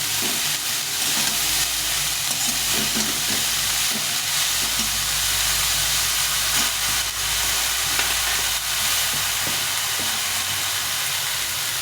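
Cabbage cooking in a pan, stirred hard: a loud, steady frying sizzle and steamy hiss throughout, broken by soft scraping and knocking of the utensil, with no talk.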